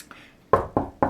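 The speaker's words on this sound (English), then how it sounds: "Knock on wood." Three sharp knocks on green wood, evenly spaced in quick succession after a brief pause, each a crisp close-up rap with a short decay, heard alone.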